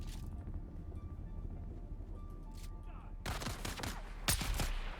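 Gunshots in a base-building video game. After a quieter stretch with faint sounds, a burst of loud, rapid shots comes in near the end, with a voice speaking around them.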